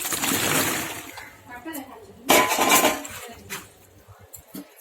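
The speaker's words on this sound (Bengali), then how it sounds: "এবারে এর মধ্যে আমি কচু শাকগুলো সিদ্ধ করতে বসে দেবো" Chopped taro greens go into a pot of hot water for boiling, giving a brief splash and slosh midway while someone talks over the kitchen sounds.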